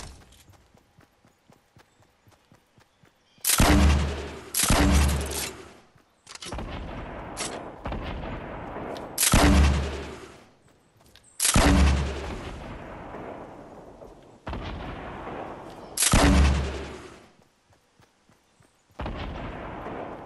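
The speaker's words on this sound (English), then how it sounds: "Grenade launcher time." A grenade launcher in the Fortnite video game fires and its rounds explode in a series of loud, heavy booms separated by short gaps, each blast decaying with a rumbling tail, preceded by faint rapid ticking and with no speech.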